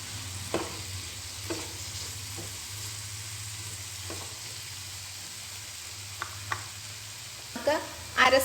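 Potato and onion sautéing in a pan for a potato stir fry, a soft continuous sizzle with occasional scrapes and clinks of a stirring utensil, a few louder knocks near the end.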